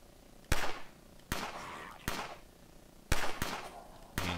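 Five sharp gunshots from a rifle in the zombie survival game Fort Zombie, spaced unevenly about a second apart, each a loud crack with a short decaying tail.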